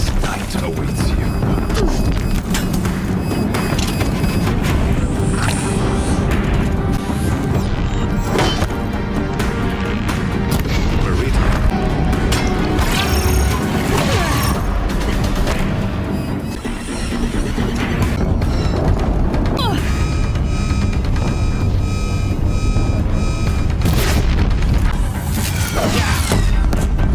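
Deathbringer machines firing in Horizon Zero Dawn, a dense continuous barrage of booms, crashes and impacts with dramatic sound under occasional speech.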